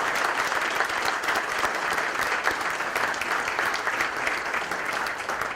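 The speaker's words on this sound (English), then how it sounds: "giving a warm welcome and a round of applause" Steady, dense applause from a crowd at a community breakfast in Nashua, New Hampshire fills the whole stretch, even and sustained without pause.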